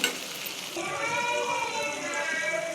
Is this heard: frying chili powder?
yes